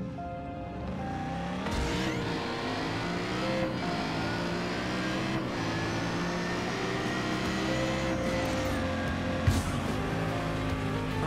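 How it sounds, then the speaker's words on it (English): Car engine with nitro boost in the video game Just Cause 3, a steady loud revving drone with rising and falling pitch sweeps and occasional tire squeal, continuous throughout with no talk. "Now start up the game and spawn in the car."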